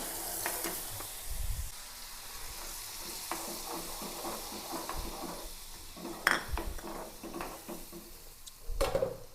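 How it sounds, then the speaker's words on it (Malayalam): Tamarind water goes into a hot pan with asafoetida for puliinji, followed by a fairly quiet sizzle with scattered clinks and scrapes of a utensil against the pan and a couple of sharper knocks, with no talking. "ഇതിലേക്ക് പുളിവെള്ളം ഒഴിച്ചു കൊടുക്കാം"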